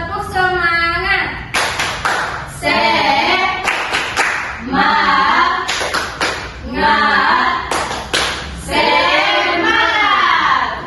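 A classroom of children does a rhythmic cheer clap, bursts of clapping trading with loud chanted voices several times.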